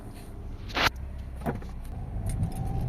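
A Toyota Corolla with a petrol engine and an automatic clutch system pulls away from a traffic light. There is a steady low engine and road hum, and a brief mechanical whir rises near the start.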